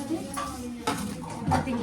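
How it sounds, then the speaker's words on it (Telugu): Dishes are washed by hand at home, with soft clinks and clatters of pots and utensils at close range. Faint voices can be heard in the background. "మా అమ్మ గిన్నెలు కడుగుతుంది"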